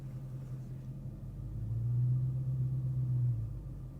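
Dodge Charger Hellcat King Daytona backing up, a low steady engine rumble that swells slightly in the middle and then settles, heard from inside the car.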